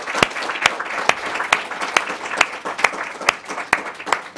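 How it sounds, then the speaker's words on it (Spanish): An audience at a Latin American program event applauds, with a dense wash of clapping punctuated by sharp, evenly spaced rhythmic claps, steady throughout. "Por favor, un aplauso para..."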